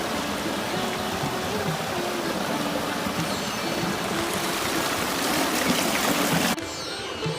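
Steady rushing water flows continuously through an irrigation channel, dense and broadband, with no voices; the sound drops slightly near the end.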